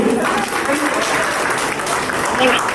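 Warm, dense applause from a seated crowd at a college alumni reunion, sustained and fairly loud throughout without a break.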